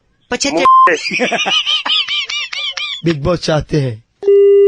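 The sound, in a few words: telephone line tones after a call drops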